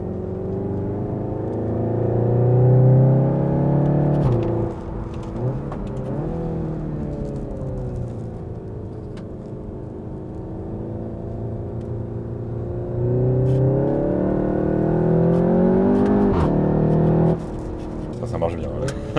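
A 300 hp car accelerating and revving during spirited driving, a loud engine that climbs through the gears with pitch rising and dropping at shifts, steady from inside the cabin.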